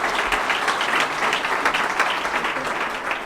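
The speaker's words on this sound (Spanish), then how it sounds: "la segunda tanda de aplausos" A second round of applause at an award ceremony, with dense clapping from a crowd that stays loud and steady for a few seconds, then eases slightly at the end.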